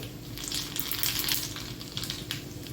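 Mustard seeds and cumin tempering in hot oil crackle and sizzle steadily, with dense popping spits all through and no voices.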